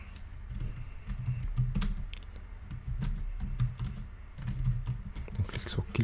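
Quick, irregular bursts of key presses on a computer keyboard as a title is typed in, close and fairly quiet, with short pauses between flurries.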